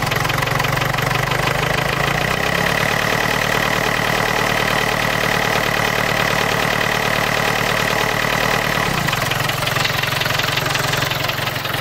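An old diesel car engine, fitted with cylinder-head glow plugs, idles steadily and close by with a rough, knocking rumble, the low throb dropping slightly near the end; no one speaks.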